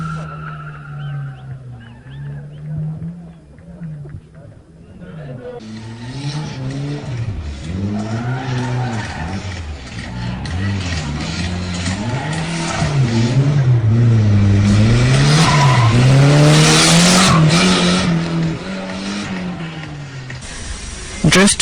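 Drift race cars skid around a course, engines revving and tyres squealing in long wavering howls that swell louder and denser over twenty seconds, with a quieter stretch at the start.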